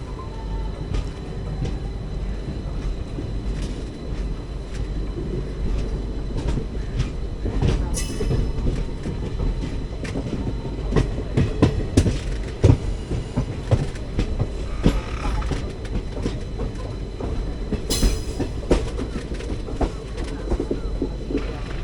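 Passenger express train on the Indian line near Kazhakkoottam running and slowing on the rails, a continuous loud rumble with rhythmic wheel clatter, scattered clicks and brief squeals throughout.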